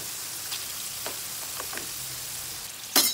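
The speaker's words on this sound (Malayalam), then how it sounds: "ഏകദേശം 10-15 മിനിറ്റ് എടുക്കും ഇതൊന്ന് ഫ്രൈ ആയി വരാൻ" Jackfruit seeds frying in oil for crispy chips give a steady, even sizzle throughout, with a few soft stirring clicks and a sharper burst of crackle near the end.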